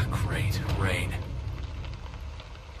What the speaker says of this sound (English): Ah, great, rain.